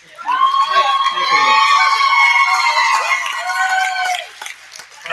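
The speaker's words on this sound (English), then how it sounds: "Crowd going crazy for Michael Berkowitz." Crowd at the New York State prep wrestling championships roaring and cheering loudly and steadily for a six-time state champion after a pin, with shrill whoops and children shouting layered over the din before it tapers off.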